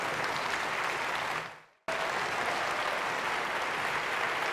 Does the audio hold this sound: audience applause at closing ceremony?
yes